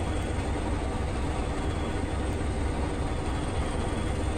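Class 20 diesel locomotive train from Train Simulator Classic on the Stranraer Harbour to Dumfries line, a continuous loud low engine drone and wheel rumble, steady and close throughout.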